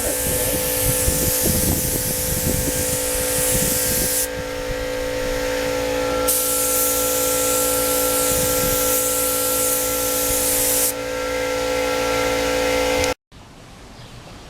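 Spray gun painting a Suzuki trackbike motorcycle fairing in a windy corner: a loud, continuous hissing spray in long bursts separated by brief pauses, ending abruptly, with faint background noise.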